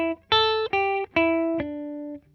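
Guitar plays a short descending pentatonic run of four clean, ringing single notes, each plucked distinctly with a brief gap, the last one sustaining and fading, alone without talking.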